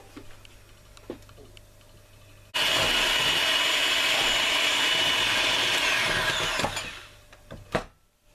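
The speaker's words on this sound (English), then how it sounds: "I'll just use a mixer." An electric food blender plugged in at the wall whirs loudly for about four seconds, blending salt and gram flour, then winds down, with faint kitchen clatter before and after.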